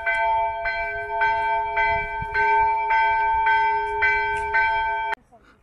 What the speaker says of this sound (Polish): Dzwony biją.